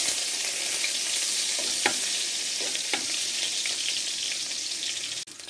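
Onions fry in a little oil for chicken adobo with sweet potato, a dense steady sizzle with a few faint stirring taps, close and unbroken until a sharp knock near the end, with no talking.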